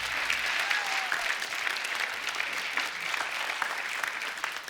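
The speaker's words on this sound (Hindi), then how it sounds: "एक बार जोरदार तालियां होनी चाहिए।" A television studio audience bursts into loud, sustained applause on a comedy talk show set, a dense continuous clatter of many hands clapping near and all around.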